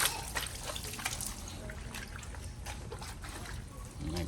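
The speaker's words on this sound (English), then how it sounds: "I'm just gonna go ahead and just rinse it off, just like that, so the soap don't dry" Hose water rinsing soap off the wheel of a 2023 Kawasaki ZX10R motorcycle, a steady, faint spray and trickle with splashes throughout.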